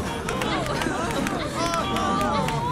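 Rapid footsteps of a group running in place during a Simon Says game in the video game We Happy Few, a busy patter of steps under crowd chatter and voices.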